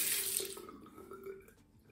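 A Gillette Ball End Tech safety razor from 1961 being rinsed under a running tap, a short steady splash of water that fades out over a couple of seconds, quiet and close, with no voices.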